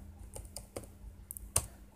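Quiet typing on a computer keyboard, a handful of separate key clicks in an uneven rhythm with one sharper tap near the end, close and alone against a faint steady hum.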